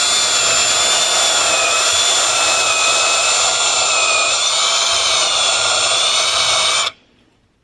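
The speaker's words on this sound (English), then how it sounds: "I might just do the drilling of the magnet holes." A drill boring magnet holes into a subwoofer baffle runs at a steady high-pitched whine, loud and unbroken for about seven seconds, then cuts off abruptly into quiet.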